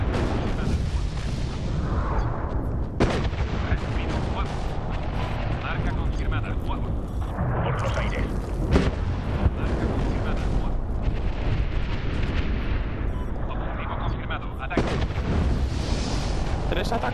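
Dense, continuous barrage of explosions and gunfire from the video game Medal of Honor (2010), booming blasts and cracks stacked over one another for the whole stretch, with a voice talking over the battle.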